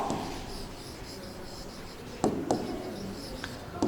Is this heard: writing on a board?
yes